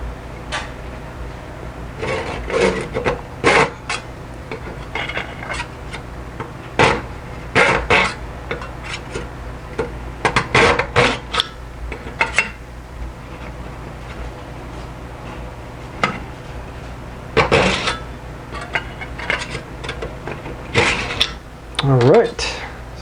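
A small saw cutting a scale model exhaust pipe at an angle, giving short scraping strokes in bursts with pauses between them, close by, with a person talking in between.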